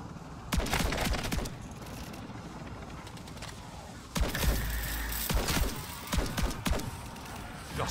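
Gunfire in the Call of Duty Modern Warfare 3 zombie mode: sharp, loud shots crack out in bursts, a few spaced at first, then a heavy blast followed by rapid volleys of several close reports.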